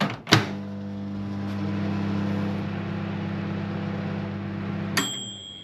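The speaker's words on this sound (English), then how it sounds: "I'm going to put my milk in the microwave for about 20 seconds" A microwave oven hums steadily while heating milk, starting with a click and running for about five seconds before a bright ding ends the cycle, close and clear with no talking.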